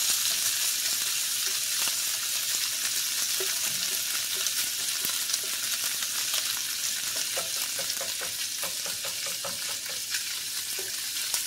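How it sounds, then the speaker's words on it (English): Bacon fries in a pan for old-fashioned Southern fried cabbage, a loud steady hiss with dense crackling pops, close and continuous without talk. "We're going to cook this until that bacon gets good and crispy"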